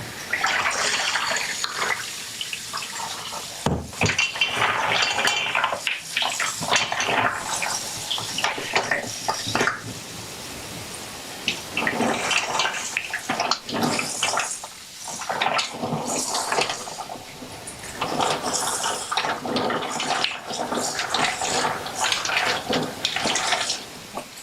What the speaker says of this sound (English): I'm just going to rinse these mussels, so bear with the sound a little bit